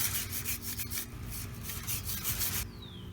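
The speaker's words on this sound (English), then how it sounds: "So I'm going to just go through and scrub it again." A brush scrubbing a Suzuki GSX-R 750 motorcycle chain in steady, continuous back-and-forth rubbing strokes, close and moderately loud, with no talking.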